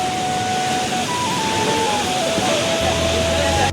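Birthi Falls pours down as a loud, continuous broadband roar that fills the whole scene, with a faint voice or tone drifting over it.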